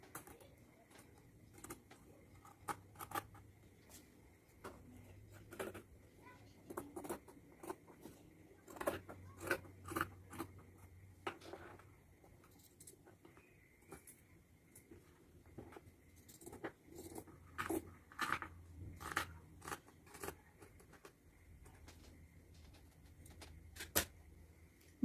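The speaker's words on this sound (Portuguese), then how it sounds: "Agora eu vou recortar o bolso todo ao redor." Scissors snip around a plush fabric pocket in a string of quiet, close, irregular cuts and rustles, with soft pauses between bursts.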